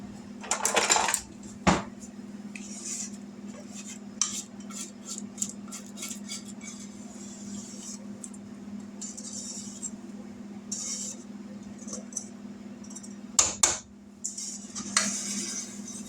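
Kitchen utensils and pots clatter and clink as a spatula is grabbed from among them, a few sharp metallic knocks over a steady low hum, loudest near the start and again toward the end.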